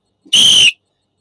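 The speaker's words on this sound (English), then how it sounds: "Stop blowing the whistle." One short, loud, shrill whistle blast lasting under half a second, close and isolated, ending sharply with silence on either side.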